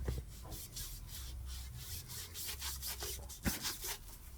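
Nike Air Max 95 Triple White sneakers are wiped down with apple-scented wipes, giving soft, quiet, repeated rubbing strokes close up with no talking.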